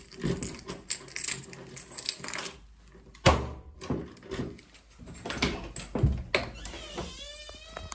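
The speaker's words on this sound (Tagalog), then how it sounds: "Buksan natin yung pintuan." A bedroom door is pushed open up close, bringing a sharp knock and rattle amid shuffling handling noises, followed by a cat's meow near the end.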